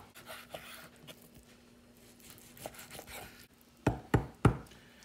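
A knife cubes round steak on a cutting board, light scraping and handling giving way to three firm, closely spaced chopping thuds near the end.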